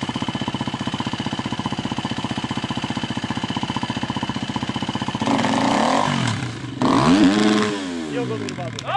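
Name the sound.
motorcycle engine revving during wheelie practice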